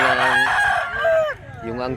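Roosters crow loudly and close, one long harmonic crow followed by another starting near the end, with faint clucking beneath.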